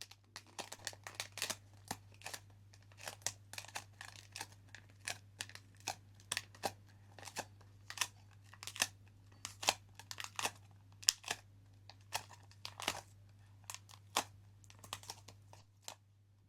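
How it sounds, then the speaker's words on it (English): Plastic sheet is rolled into a henna cone and taped, giving soft crinkling and crackling with scattered sharp clicks and small tape noises that come close and irregular over a faint steady hum. "Then continue rolling the cone, checking again that the tip is still tight."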